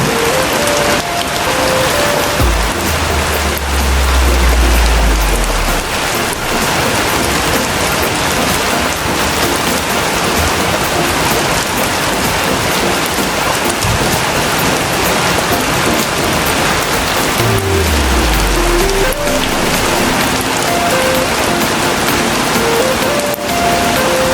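Heavy rain pours steadily on a solo camping shelter in a forest, a dense, loud wash of drops that continues unbroken throughout, with a few low rumbling thuds and faint creaking sounds underneath.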